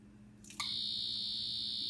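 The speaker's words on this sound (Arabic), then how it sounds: "بيفصل لوحده وبيعمل صوت انذار ان هو كده خلاص الجهاز طفى وان الحاجه خلصت منه" An electric egg boiler's alarm goes off once its water has boiled dry and it switches itself off: a loud, steady, high-pitched electronic tone that starts abruptly and holds without a break, close by.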